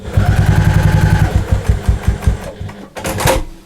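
A sewing machine runs a stitching pass on a bathroom storage caddy with vinyl pocket and zip, giving a loud, steady motorized whir with rapid needle chatter. It slows near the end, then a brief sharp rustle follows.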